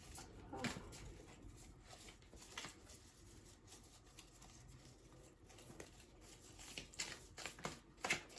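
A deck of alchemy cards is shuffled by hand, giving soft, irregular papery riffles and taps close to the listener, faint and alone without talk.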